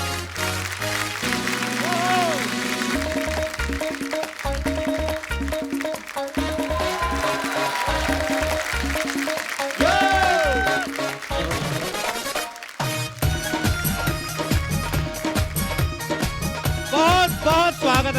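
A studio audience applauds as actor Nawazuddin Siddiqui is welcomed onto The Kapil Sharma Show. Steady clapping runs the whole time, mixed with loud band music and some voices.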